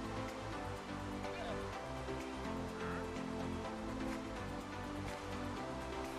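Rain falls in Minecraft Pocket Edition, a soft, continuous hiss of drops that holds steady and quiet from start to finish.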